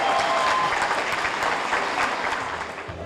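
Audience applause at a Westbank Musician's Hall of Fame induction, dense sustained clapping from a crowd that holds steady and slowly fades toward the end.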